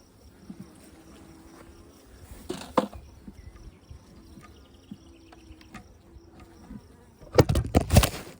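Honey bees buzz at a hive in a steady low drone, with a few close louder passes, one midway and a loud burst near the end.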